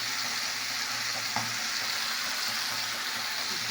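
Salt and turmeric being mixed and fried in a pan with a wide spatula, a steady broadband sizzle with a soft scrape near the midpoint, close and continuous with no voices.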